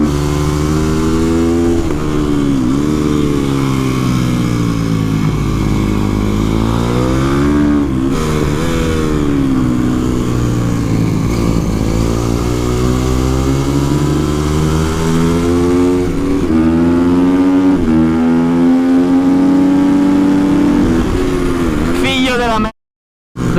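A supermoto motorcycle, a bike said to cost 40,000 euros and running on new tires, revs loud and close throughout, its engine pitch rising and falling in repeated sweeps as it accelerates, with a voice talking over it.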